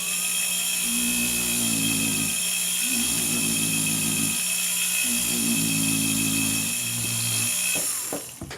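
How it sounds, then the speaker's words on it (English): A polishing wheel charged with compound spins against a bezel setting at medium speed, giving a loud steady whine with pulsing changes in pitch as pressure varies, then winding down at the end. "So we have a little bit of the polishing compound down there, and that's called charging the wheel."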